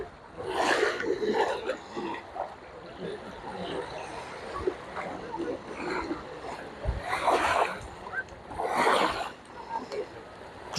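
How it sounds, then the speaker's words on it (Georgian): Sea waves washing onto a Barcelona beach, with several soft surges breaking and receding at an irregular pace, mid-distance, under a steady background murmur. "არაფერი ისე არ მამშვიდებს, როგორც ზღვის მიმოქცევის სასიამოვნო ხმა"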